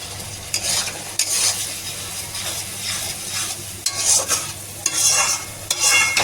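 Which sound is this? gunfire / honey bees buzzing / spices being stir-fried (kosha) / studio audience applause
spices being stir-fried (kosha)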